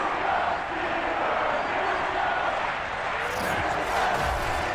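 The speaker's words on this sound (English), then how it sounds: "Big Ben Roethlisberger greeted by this sold-out Heinz Field crowd." Sold-out stadium crowd at Heinz Field in the Madden NFL 22 football game, a steady roar of many voices that holds at a constant level and swells slightly near the end.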